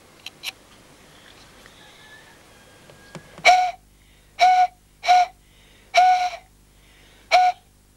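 A few faint clicks, then five sharp, shrill blasts on a grass whistle in short bursts with pauses between, each a piercing reedy squeal against quiet surroundings.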